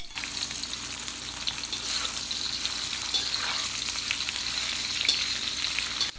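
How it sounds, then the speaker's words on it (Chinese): Steady sizzling of soy skin pieces frying in plenty of hot oil, a continuous crackling hiss with occasional stirring, no talking. "我们就把它放入油锅，这油稍微多一点，因为要有一点像是炸的方式"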